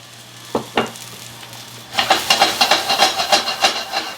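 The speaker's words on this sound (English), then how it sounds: "I get that seasoning a little bit fried up to give a nice flavor" A chili powder spice mix hits hot oil in a pan for shakshuka: two sharp knocks, then a loud, crackling sizzle that bursts up and keeps pulsing close by.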